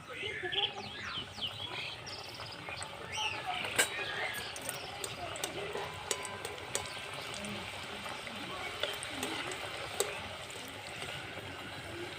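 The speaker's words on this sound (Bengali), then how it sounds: "এক এক করে সব পিঠেগুলো ভেজে নেব" Fuljuri pitha fry in oil with a steady bubbling sizzle that sounds almost like running water. Birds chirp faintly in the background.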